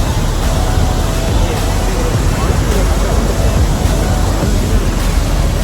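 Athirappilly Waterfalls in Thrissur, Kerala, rumbles as a loud, continuous rush of falling water, with wind buffeting the microphone throughout.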